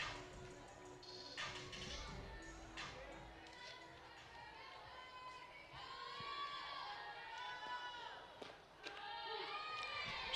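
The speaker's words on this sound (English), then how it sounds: "a lot of Gwinnett County folks here in attendance giving a big round of applause" Spectators at a college softball game between South Carolina Upstate and Georgia clap and cheer in a continuous, moderately loud crowd wash, with a voice talking over it.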